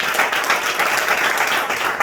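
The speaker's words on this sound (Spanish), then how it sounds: "Démosle ofrenda de palmas al Señor." Church congregation clapping hands in praise during a Spanish-language service, dense and loud continuous applause filling the whole moment with no talk over it.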